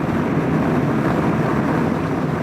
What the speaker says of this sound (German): Windschutz am Helm, das hört man bestimmt jetzt, ist ein bisschen laut